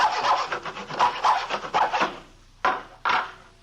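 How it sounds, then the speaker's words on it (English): A hacksaw cuts into a piece of plywood with a run of quick, rasping back-and-forth strokes, then two separate strokes after a short pause, close and clear with no talk. "he was sawing on a piece of plywood with a hacksaw"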